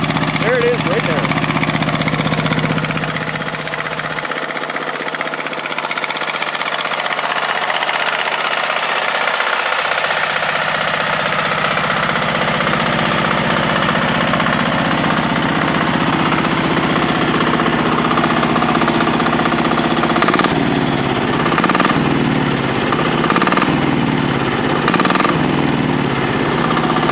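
A diesel engine with an inlet screen guard over its cooling intake runs loudly and steadily nearby, its rough, knocking drone continuing throughout while a person talks over it.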